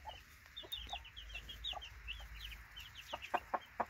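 Hens clucking in a flock of rose-comb chickens during a poultry breeding show, a steady scatter of overlapping clucks and calls, some close and loud, others fainter behind, with a low rumbling background throughout.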